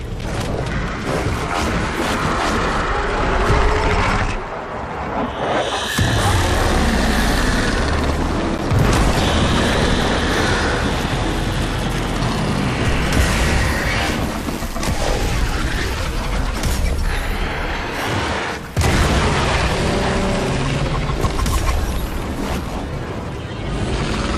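Loud rumbling explosion with crashing debris in the video game Warframe, a heavy blast followed by a long churning roar and further booms, no talk.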